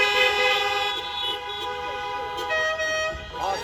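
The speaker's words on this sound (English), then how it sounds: "Give me a honk of those horns." Car horns honk outdoors at a commencement ceremony: a loud, sustained blend of many horns tooting together, some fading and others starting again, with a faint voice briefly underneath.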